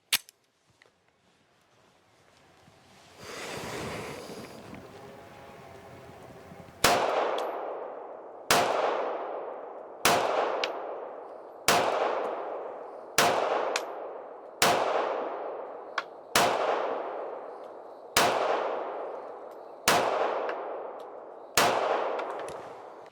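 A short-barrel handgun with a longer grip and a 12-round magazine fires ten sharp, loud shots at a slow, even pace, each ringing out and fading before the next, after a quiet stretch of shuffling and handling.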